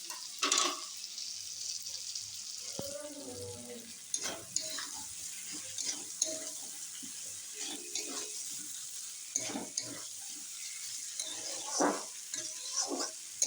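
Vegetable stems being stirred and fried in a pan, with a steady sizzle broken by repeated scraping and knocking strokes, and a short splash of water partway through.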